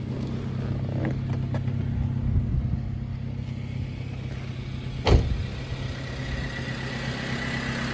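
A high-mileage car with a D series engine idles steadily at close range, producing a low even rumble, with one brief louder knock partway through.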